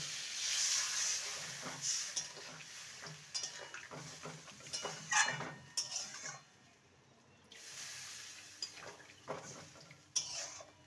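Water poured into a hot pan of vegetables fried in spices raises a hissing, steaming rush, with scraping and clinking of a utensil against the pan in irregular bursts; no voices.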